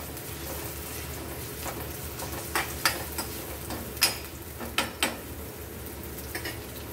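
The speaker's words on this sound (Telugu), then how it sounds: "ఉల్లిగడ్డ ముక్కలు వేసుకుందాం, పచ్చిమిరపకాయ ముక్కలు వేసుకుందాం. ఇవి ఫ్రై చేసుకుందాం." Chopped onions and green chilies frying in a pan with marinated mutton seasoned with salt and turmeric, a soft steady sizzle broken by several sharp clinks of a spoon stirring against the pan.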